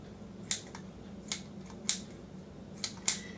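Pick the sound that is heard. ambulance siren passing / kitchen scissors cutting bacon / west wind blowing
kitchen scissors cutting bacon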